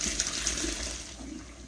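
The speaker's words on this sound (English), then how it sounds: "pour our potatoes up in our colander" Boiled potatoes and their cooking water poured into a colander in a home kitchen, a steady close rushing splash of water draining through for the whole stretch, with no talking.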